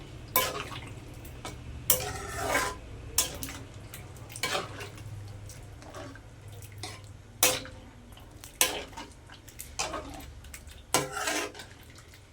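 A spoon stirs mutton gravy in a pan with repeated scraping strokes against the metal, several sharp scrapes in an irregular rhythm over a quiet background.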